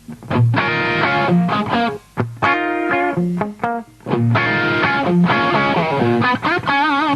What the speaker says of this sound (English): a tube screamer, a TS808 reissue that I'll put in front of the amp to use on the clean channel sometimes